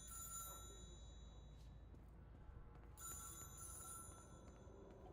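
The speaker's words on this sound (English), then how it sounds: "see if we can get the phone to ring a second time" A telephone bell rings in the video game Control, set in a quarry area: two separate bursts of bright, metallic ringing with a quiet pause between them over a low background hum.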